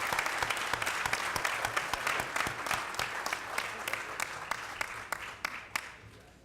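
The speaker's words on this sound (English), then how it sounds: "Again, let's give a big round of applause for this great basketball team." Audience at a city council meeting applauds a basketball team, a steady wash of many hands clapping with sharper individual claps standing out, tapering off near the end.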